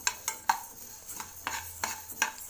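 Spices roasting in a pan over a low flame are stirred with a utensil, giving a series of light, uneven scrapes and taps against the metal with quiet gaps between them.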